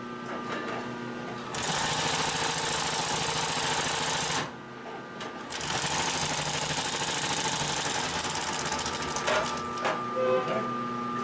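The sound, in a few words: Consew 744R-30 walking foot sewing machine sewing leather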